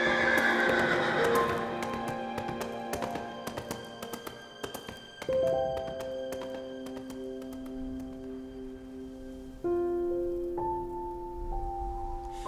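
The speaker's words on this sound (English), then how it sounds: "The horseman and his trusty steed, Shadow, rode across the bridge and into the fog." Shadow the horse neighs near the start, then hooves clip-clop steadily across a bridge, set among music-like sustained tones and scattered taps.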